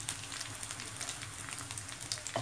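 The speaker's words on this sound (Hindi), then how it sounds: "ये देखिए बादामी कलर होने तक भुनेंगे" Onion, ginger and garlic frying in a pan for Hyderabadi bheja fry, a steady soft sizzle with faint crackles throughout, fairly quiet and with no talk.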